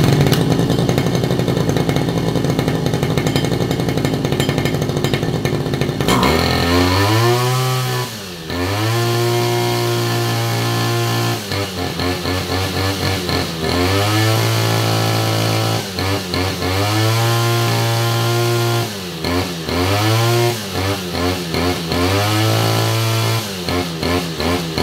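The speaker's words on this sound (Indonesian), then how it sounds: "di video kali ini saya akan tunjukkan ini mesin rumput menggunakan skep ya" A model 328 grass cutter two-stroke engine starts after a few seconds of background noise, then buzzes loudly and close, revving up and dropping back repeatedly in a steady rhythm.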